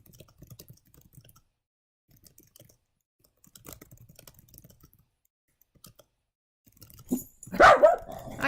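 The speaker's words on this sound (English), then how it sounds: "I have a dog, and the dog is angry." An angry dog barks in a short loud burst at the end, after a stretch of quiet keyboard clicking.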